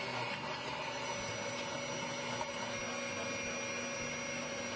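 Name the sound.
grinder grinding leftover fish from the bouillon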